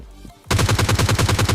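Automatic gunfire in PUBG Mobile Lite erupts after a brief quiet moment: a loud, steady burst of about a dozen rapid shots in even rhythm, close and alone.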